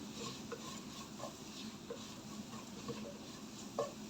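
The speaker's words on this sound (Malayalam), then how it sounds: "നന്നായിട്ട് ഇളക്കി കൊടുക്കാം" A spoon stirring a Kerala-style red chilli fish curry with kudampuli in a pan, producing soft repeated scrapes and clicks over a faint steady sizzle, quiet and close.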